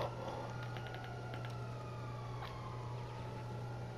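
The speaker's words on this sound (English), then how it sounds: "There's an invisible police car!" A police car siren in a video game wails faintly and steadily over a constant low electronic hum, with a few brief chirps and tones mixed in and no one speaking.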